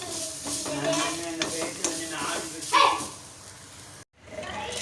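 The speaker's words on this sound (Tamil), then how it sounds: "அந்த சூட்டிலே வந்து அப்படியே இந்த தேங்காயை நம்ம வறுத்தாலே போதும் அப்படியே கலந்து விட்டுக்கலாம்" Grated coconut roasting in a hot pan on residual heat, stirred with a utensil, producing scraping strokes and soft sizzle close by, with faint background voices and a brief dropout near the end.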